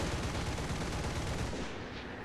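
Aircraft guns firing in a WWII flight combat game, a dense, continuous rattling burst of rapid shots that holds steady for a couple of seconds before easing slightly at the end.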